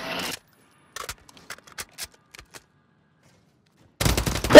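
Bursts of Bruen heavy support gunfire in the video game Warzone, a zero-recoil build without a scope, crack out in a short spray, trailing into scattered faint shots before a louder volley returns at the end.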